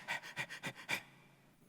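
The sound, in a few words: voice imitating a panting dog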